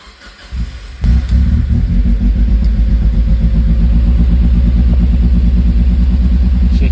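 A Mazda Miata engine starts after a second of quiet and runs rough, loud and close, with a steady low pulsing rumble throughout.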